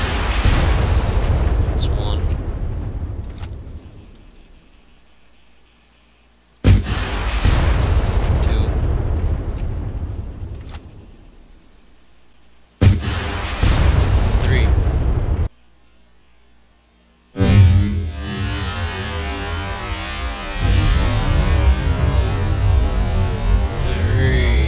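RPG rounds striking a Panther IFV in the video game Arma 3 sound as several heavy, booming explosions, each starting abruptly and rumbling away before the next, with the last blast leading into sustained noise.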